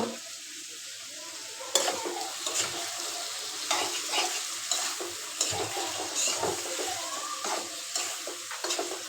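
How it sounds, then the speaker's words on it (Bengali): Okra (bhindi) frying in a pan gives a steady, close sizzle, with spatula stirring and scraping sounds coming through at intervals and no talking. "এদিকে আমি ভেন্ডি ভাজিটা বসাই দিছি"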